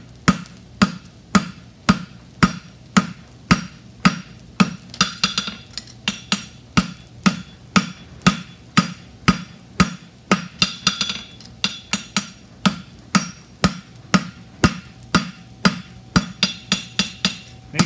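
A blacksmith hammers hot quarter-inch steel on an anvil to forge a cap toe and heel caulk, with loud, evenly spaced ringing blows repeating steadily and occasional quick double strikes, and no talk.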